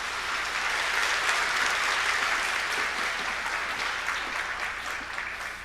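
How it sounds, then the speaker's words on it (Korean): A church congregation at a Sunday worship service claps steadily to welcome a visiting professor, with dense, even applause that holds for several seconds and then tapers slightly toward the end. "큰 박수로 환영하겠습니다."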